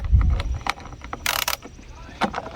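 Screws come out of the MAF sensor housing on a Ford Focus air intake box with brief close ratcheting clicks and small plastic and metal taps, plus one short louder burst of rasping noise.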